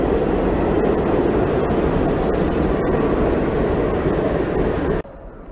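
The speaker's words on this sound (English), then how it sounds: "Here comes our train." A loud, steady roar of a New York City subway train rushing past up close, continuous rumbling and rattling that drops away suddenly near the end.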